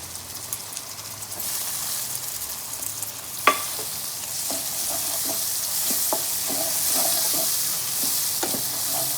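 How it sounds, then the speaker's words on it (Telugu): Fenugreek (methi) leaves frying in a pan for methi chicken, a soft steady sizzle under scattered stirring clicks and taps from a utensil, close and fairly quiet, with no talk. "ఫస్ట్ మెంతికూర వేసినాక కొంచెం ఫ్రై కావాలి"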